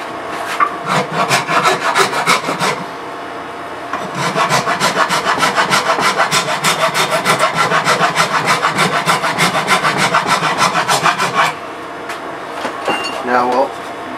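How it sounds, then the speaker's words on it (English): A 4-in-1 rasp filing an old, dried-out wooden axe handle, loud, close rhythmic scraping strokes in two bursts with a short pause between them, then a few lighter scrapes at the end. "This is just a 4-in-1 rasp, but has coarse spine, flat, curved."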